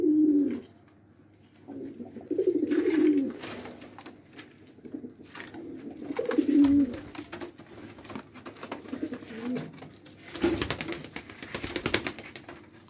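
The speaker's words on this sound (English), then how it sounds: "Is the lovely pigeon." A pet pigeon cooing at night, close by, with several soft, low, rolling coos spread through the stretch, mixed with light rustling and shuffling sounds.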